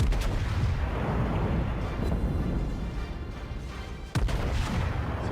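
Battleship shells firing in World of Warships as the U.S.S. New York BB-34, heavy rumbling booms with continuous low roar and one sharp loud blast near the end, no talking.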